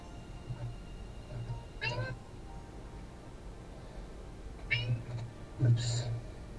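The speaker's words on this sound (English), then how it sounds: "your cat is awfully chatty today, Ty." A house cat meows a few times in short, chatty bursts, fairly faint against a steady background hiss, with gaps of quiet between the calls.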